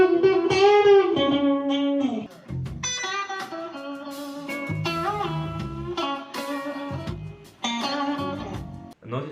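Clean electric guitar slowly playing a solo lick, with bent and sustained single notes in separate phrases, close and moderately loud with pauses between runs.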